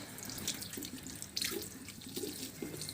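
Hands are rinsed under a running tap, with a steady, soft rush of water splashing into a sink throughout, close by and without talking.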